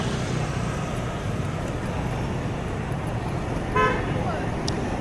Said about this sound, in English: Hear a lot of beeping and honking.